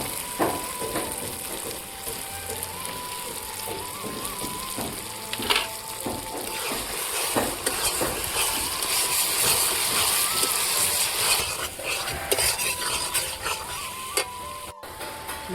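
Potatoes frying in a pan and being stirred for a muri ghonto dish, a continuous sizzle with intermittent scraping and clinking of a utensil, close and fairly loud, with background music running underneath.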